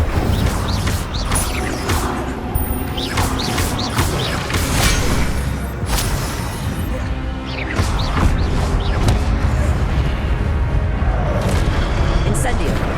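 Repeated fiery blasts and whooshing bursts of the Incendio fire spell in Hogwarts Legacy, loud and steady over continuous game effects, with a voice talking throughout.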